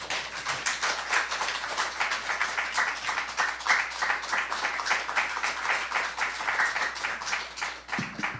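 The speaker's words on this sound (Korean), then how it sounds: "박수로 모시기 바랍니다" Steady applause from a modest lecture audience welcoming a speaker, even rhythmic clapping at moderate loudness over a faint low hum, tapering off at the end.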